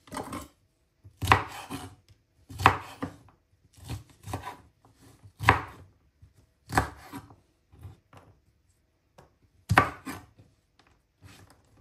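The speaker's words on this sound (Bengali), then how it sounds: "তাই করলাগুলা কুচি করে ফ্রোজেন করে ফেলবো।" Bitter gourd being chopped into small pieces with a knife on a board in a home kitchen, a run of separate crisp chopping bursts spaced irregularly, close and fairly loud with no talking.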